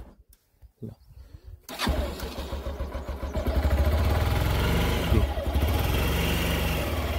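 A Hero Xpulse motorcycle engine cranks and catches after a brief quiet start, then settles into a steady, loud idle that keeps running close by, on a ride toward Bhairavkunda in Nepal.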